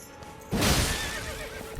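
A horse in the video game Elden Ring gives a sudden loud whinny after a quiet start, the neigh ringing out for about a second close up, followed by hoof clatter and game ambience, with no talk.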